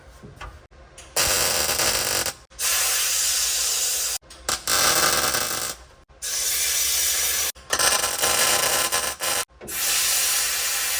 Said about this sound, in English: we're just gonna slowly work our way around it, and eventually it'll be welded in